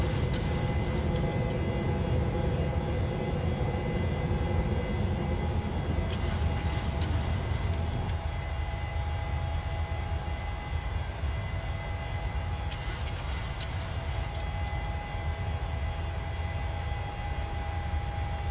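PMDG 737-900 jet engines spooling up to climb power in Microsoft Flight Simulator, a steady loud broadband roar with a low rumble that runs through the whole stretch, with no talking.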